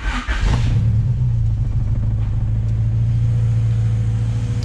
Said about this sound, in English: I don't know if I ever posted like a fresh, like, you know, of it actually just chilling and idling.